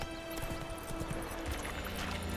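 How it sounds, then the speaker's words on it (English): Hooves of a horse in The Witcher 3 video game clip-clop in an uneven rhythm, set among dense game music and ambience. "Roach is a good horse."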